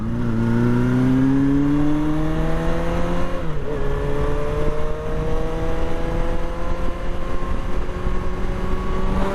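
A car in a racing video game drives past as a loud, steady engine drone, with its pitch climbing, dipping briefly midway, then rising again, and no talking.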